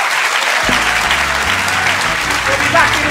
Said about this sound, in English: That was a spontaneous round of applause.